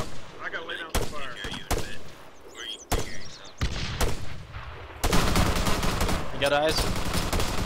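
Gunfire rings out in the military shooter ArmA 3 as sharp, loud shots and bursts, building to sustained automatic fire in the second half, with talk over the radio along the way.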